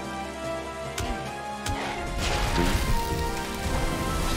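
Steady rain falls in the Valheim video game within a swamp area, with a broad continuous hiss and patter running throughout, broken by a couple of sharp impact thuds early on.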